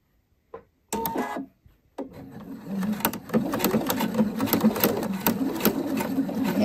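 A sewing machine stitches a ruffle seam with a one-centimetre seam allowance and 2.5 mm stitch length, including backstitching. It starts with a few short bursts, then settles into a steady, close, continuous whirring run.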